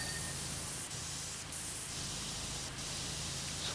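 Steady, close pressure-washer spray from the video game PowerWash Simulator 2, aimed at a dump truck's tires: a continuous loud hiss with a low motor hum beneath, briefly dipping a few times as the nozzle stops, with no talking.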